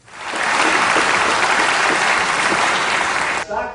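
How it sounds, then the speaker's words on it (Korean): Thunderous, sustained applause fills the National Assembly chamber during a presidential speech by Trump, a dense, loud wash of many hands clapping at once that holds steady before cutting off near the end. "한국민의 저력과 한미동맹의 굳건함이 언급될 때는 우레와 같은 박수가 터져나왔습니다."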